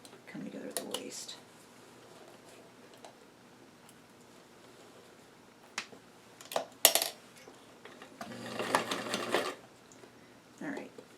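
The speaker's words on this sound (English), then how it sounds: "I am seriously not sure if my machine will be able to sew in this through this really, really thick area where all the ruffles come together at the waist" A home sewing machine stitches through the thick gathered ruffles at the waist of a doll dress in short bursts of rapid mechanical whirring, the longest near the end, separated by quiet pauses and small clicks.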